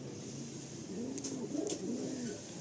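Pigeons held in hand coo softly in a run of low, rolling coos, close by against a faint background hiss.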